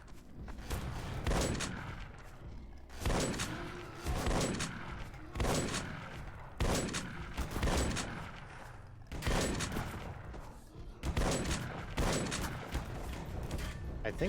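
Blade Runner gun fired in the cyberpunk shooter E.Y.E.: Divine Cybermancy: loud, heavy shots repeating about every two seconds, each with a booming attack and a ringing tail, over constant background game noise.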